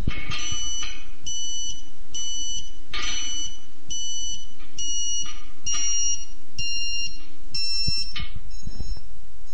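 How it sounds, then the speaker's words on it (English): A Ka-Sat satellite antenna alignment beeper sounds loud, repeated electronic tone bursts in a steady rhythm of about ten pulses, each a shrill multi-tone beep with brief gaps between. "Until you hear the beeper level drop"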